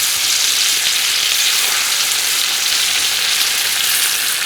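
Large pieces of fish fry in hot oil in a kadai, a loud, dense, steady sizzle that holds without a break and has no voices over it.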